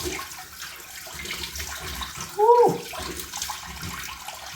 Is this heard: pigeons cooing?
no